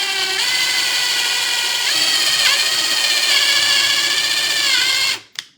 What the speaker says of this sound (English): So I get a nice little pilot hole going.